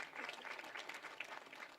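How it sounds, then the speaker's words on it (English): Audience applause at a ceremony for a minister's acceptance speech in Namibia, a steady wash of many hands clapping at moderate distance, fairly quiet and continuous throughout. "Can we give him another round of applause"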